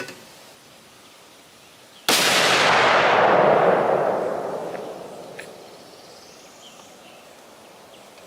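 A single loud rifle shot, from a .300 Win Mag or .30-06, cracks sharply outdoors, then booms and echoes as it slowly fades, over a quiet background of light ambient noise.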